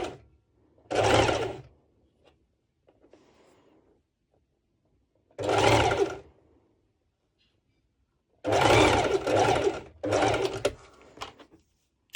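A sewing machine runs a basting stitch on fabric for color block bottoms in several short bursts, with a long gap between the first two runs and two quicker runs near the end, loud and close.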